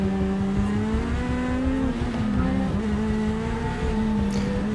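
A race car, either a Speedcar GSX-R 1000 or a Porsche GT3 Cup rally car, accelerates hard while sliding its rear on a track, engine note droning high and steady with rising and dipping pitch.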